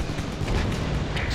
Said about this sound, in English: Friendly AC-130 in the air.